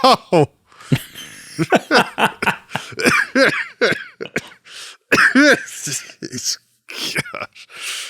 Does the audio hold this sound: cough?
yes